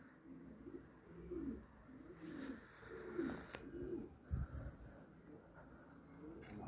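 Pigeons coo in soft, repeated rounded phrases, fairly faint and close, with a brief wing or shuffling thump partway through and low background hum.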